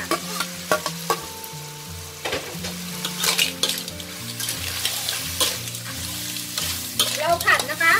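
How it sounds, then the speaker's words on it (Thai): Clams and holy basil stir-fried in a pan with peppercorns and chilies, a steady loud sizzle broken by repeated scraping and clattering stirs, with a low tonal hum running beneath. "เราผัดนะคะ ให้ใบกะเพราของเราสุกเลยค่ะ"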